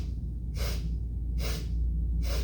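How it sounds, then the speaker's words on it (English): Three sharp, breathy inhalations taken at even intervals during Naam Yoga breathwork, close and clear over a low background hum. "We're going to inhale 4 times."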